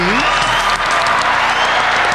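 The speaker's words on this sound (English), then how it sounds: "Can I get a round of applause, please?" Podcast studio audience breaks into steady applause, loud and close, with cheering voices mixed through the clapping.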